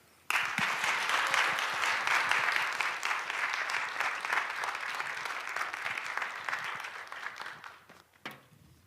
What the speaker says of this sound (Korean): 따뜻한 박수와 함께 격려해 주시면 감사하겠습니다